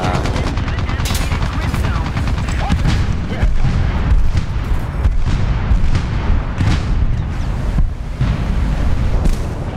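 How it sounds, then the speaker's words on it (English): A tank in War Thunder takes a barrage of rocket fire, with loud, continuous booms, blasts and rattling gunfire packed densely together for the whole stretch. "taking massive rocket fire"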